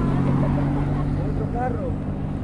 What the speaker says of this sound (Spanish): Otro carro.